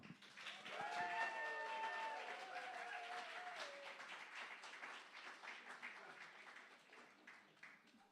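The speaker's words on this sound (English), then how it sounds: "So could you put a bit of extra love and energy into your applause" Live comedy-club crowd at The Bedford claps to welcome a comedian on stage, swelling early then gradually thinning, with a sustained musical tone underneath at the start.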